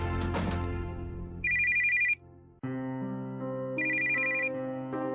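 An in-game telephone rings in the PC game A Sceptic's Guide to Magic: two bursts of a bright electronic trill, loud and close, over a steady synth music bed, with a chord sting and a brief drop between the rings.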